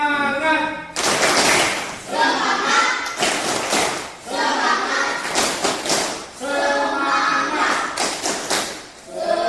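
Classroom group doing a rhythmic spirit clap (tepuk semangat) as an icebreaker led by a teacher, with loud patterned bursts of many hands clapping in quick groups separated by short pauses, voices mixed in.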